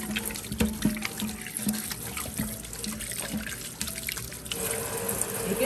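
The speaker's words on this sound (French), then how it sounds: "Alors là, je vais passer par laver mes mains." Hands washed under a running kitchen tap, with a steady close splashing stream and irregular trickles and drips as the hands move through the flow.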